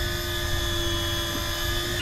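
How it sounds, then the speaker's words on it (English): Electric fishing reel motor winding in line on a deep-drop fishing boat, a loud steady mechanical whine with a constant pitched hum, unbroken for two seconds. "I know these electric reels are loud and annoying"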